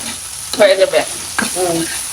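Bottle gourd peel sizzles and scrapes in a hot pan as it is stirred, with a steady frying hiss and a couple of louder tonal scraping strokes.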